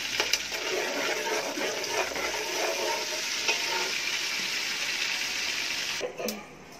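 Whole spices, cinnamon, cloves and cardamom, frying in a pot, with a steady broad sizzle throughout, occasional stirring scrapes, and a brief clatter near the end.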